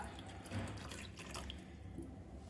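Boiled vegetable water is poured into simmering pav bhaji, giving a steady, close liquid splashing and trickling that runs without pause for a couple of seconds.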